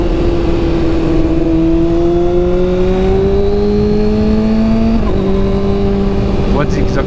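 A 2012 Kawasaki ZX-6R sport motorcycle engine revs loudly and close, pitch climbing steadily through long pulls with a brief shift partway, a constant roar throughout.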